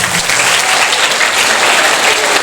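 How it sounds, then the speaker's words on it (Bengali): Big round of applause for Akash at a Jyotirmoy Public School event in Sonarpur, a dense, steady crowd clapping that fills the whole moment without a break. "আকাশের জন্য একটা বড় হাততালি হবে"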